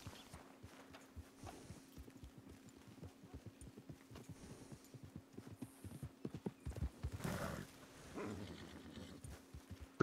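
Horse hooves in Red Dead Online clip-clop in a quick, steady rhythm, close and clear, briefly broken by a rushing swell before the steps continue.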